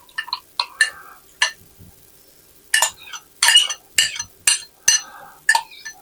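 A utensil stirs sauce into rice and vegetables in a pan, making close, intermittent clinks and scrapes in short bursts with pauses between them and no talking.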